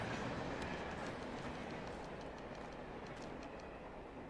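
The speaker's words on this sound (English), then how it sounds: "The train." A train rumbles past in the video game Alan Wake, a steady loud roar of rolling wheels with faint clatter throughout, no talk.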